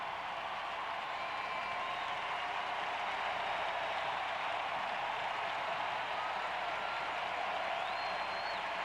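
A big parade crowd at the Toronto Blue Jays' 1992 World Series celebration cheers and applauds for the players' wives, a steady, dense roar of clapping and voices that holds at an even loudness throughout.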